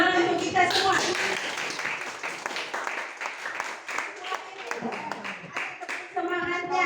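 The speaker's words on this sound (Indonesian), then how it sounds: "Tepuk tangan untuk kita semua." A class clapping hands together, a brief burst of many hands clapping up close, mixed with voices of people talking and calling out.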